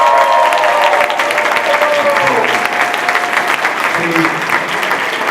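Audience applause at a university Student Affairs and Enrollment Management staff meeting: steady, dense clapping from a crowd that fills the room and holds for several seconds, with faint voices mixed underneath.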